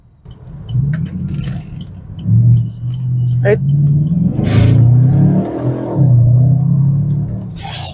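A 2013 Chevrolet Camaro SS V8 rumbles and revs loudly and continuously up close, its deep growl swelling in waves while a voice speaks briefly over it.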